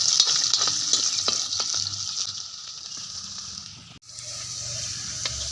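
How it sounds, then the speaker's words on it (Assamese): Fish pieces sizzle steadily as they half-fry in hot oil for an Assamese fish curry, a continuous hiss with a brief break near the end before the frying resumes. "এনে অলপ ফ্ৰাই কৰিলোঁ"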